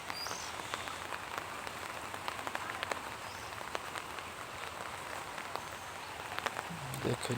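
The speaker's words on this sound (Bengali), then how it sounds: "গড়ি গড়ি বৃষ্টি হচ্ছে" Rain falls steadily on a fish pond stocked with tilapia, a dense, even patter of drops on the water running throughout, with no voices heard.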